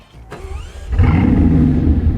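A Bugatti Chiron Super Sport fires up: a brief starter whine and click, then the engine catches and settles into a loud, deep, rumbling idle close by.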